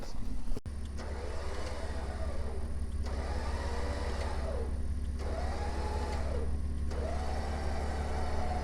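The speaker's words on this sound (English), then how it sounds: "The truck's running, which you're supposed to do" A Toyota Land Cruiser truck idles at a hot desert riverside campsite, its low, even engine rumble steady and close, with faint recurring whines layered over the hum.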